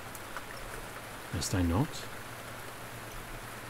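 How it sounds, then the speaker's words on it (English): Steady rain falls as a soft, even hiss throughout, under a brief spoken line from a voice. "The rain is picking up already."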